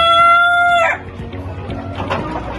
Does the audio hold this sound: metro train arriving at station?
no